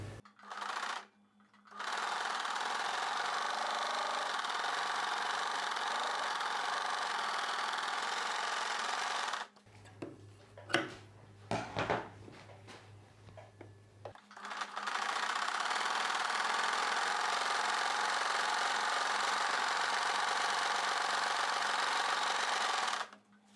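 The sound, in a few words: sewing machine stitching a belt onto a blouse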